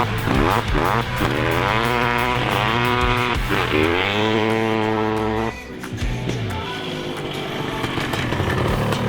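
A freshly rebuilt engine in a turbocharged BMW 5 Series 530i runs outdoors in a field, rising and falling through several loud close revs before settling back to a steady idle, with no speech.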